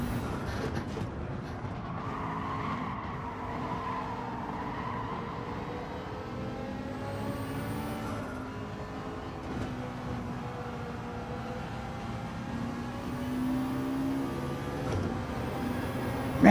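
Race car engine from Gran Turismo 7 on PS5 during a close race, a steady droning engine note with shifting pitch under continuous road and wind noise, constant and fairly loud throughout.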